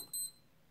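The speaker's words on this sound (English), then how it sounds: "So the alarm is actually a decent" George Sport chrono wristwatch alarm giving a short burst of high electronic beeps, a clear double-pulse pattern lasting about a fifth of a second, fairly close, then quiet room tone.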